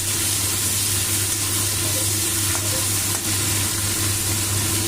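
Salted, turmeric-coated shrimp frying in a little oil in a pan, giving a steady, even sizzle with faint stirring and a low background hum, no voices.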